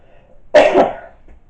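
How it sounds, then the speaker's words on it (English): A single loud, close cough, one harsh burst lasting about half a second, with quiet before and after. "why am I coughing so much?"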